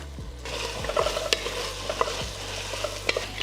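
Chopped onions, carrots and celery sautéing in a pot for chicken and dumplings, with a steady close sizzle broken by several distinct scraping stirs of a spoon against the pot.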